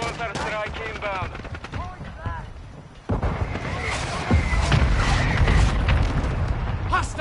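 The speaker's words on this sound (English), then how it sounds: "Friendly mortar strike inbound." Video game battle in Modern Warfare 2, with a mortar strike of heavy booming explosions after bursts of gunfire and an announcer-style voice early on, then sustained rumbling blasts and crackling shots.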